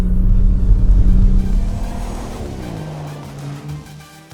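Audi RS4 Avant drifting across a frozen ice lake, its engine droning steadily with a low sustained tone that shifts in pitch as the car slides, loud and close with no talk.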